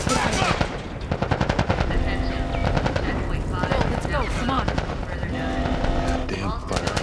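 Rapid automatic gunfire bursts in The Last of Us combat against Fireflies, loud and dense throughout, with shouted voices mixed in among the shots.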